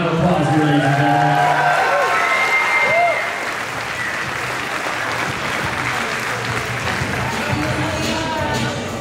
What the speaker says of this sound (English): Let's give our fighters one more big round of applause here, ladies and gentlemen